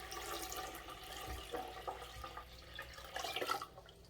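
Regular tap water running and splashing into a container in a kitchen-style setting, a steady close pour with drips and gurgles, no talking.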